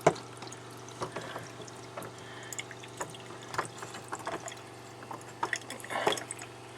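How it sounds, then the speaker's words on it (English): A camper faucet fed by a newly installed Surflo 2088 water pump runs at a weak trickle, with small drips and splashes scattered over a steady low pump hum, close and fairly quiet throughout. "Back to a frickin' trickle again. It's pumping, but not real great."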